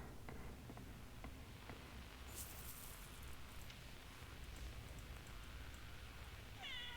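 A cat meows a few times in the game Crime Scene Cleaner over a steady, noisy background hiss, with a brief higher-pitched cry near the end.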